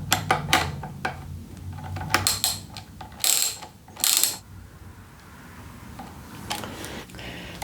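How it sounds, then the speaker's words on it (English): Ratchet wrench tightening a nut and bolt on a motorcycle brake lever, with bursts of metallic clicking and a few louder ratcheting strokes over a dim workshop background, close by. "And now tighten up the nut and bolt."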